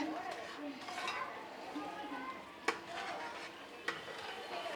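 A spoon stirs semolina (rava) upma in a pan over a high flame with soft, continuous scraping and two sharp metallic clinks, while a voice talks over it.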